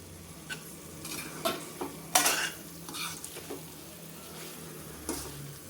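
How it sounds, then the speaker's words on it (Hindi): Fried drumstick vegetables are stirred into sizzling masala in a pan, a spoon scraping and clinking in irregular strokes over a constant close frying hiss. "अब इनमें हम सब्जियां जो फ्राई करके रखे हुए थे उनको डाल देते हैं।"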